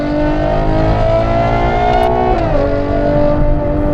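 Ferrari Purosangue V12 fitted with a Novitec exhaust revs steadily, its dense harmonic drone climbing in pitch, then dipping briefly around the midpoint before rising again, loud and close with no talking.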